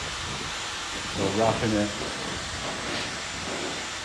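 Steady breathy rush of a hair dryer blowing air while hair is brushed and directed during a layered long bob haircut, a close constant hiss with someone talking briefly over it.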